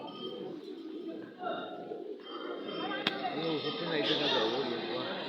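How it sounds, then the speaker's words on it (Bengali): Jalali pigeons coo softly at the Shah Jalal shrine, with repeated low rolling calls over a steady murmur of a crowd and occasional flutter. "দেখেন কবুতর উড়ে আসছে।"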